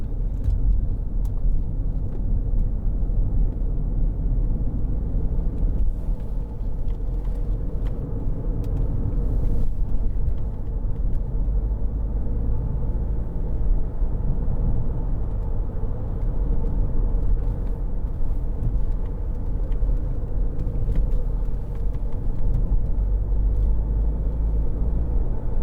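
A 2012 BMW 520d SE saloon with a 2.0 diesel engine cruises along a road, heard as a steady low rumble of engine and road noise from inside the cabin, continuous and even throughout with no talk.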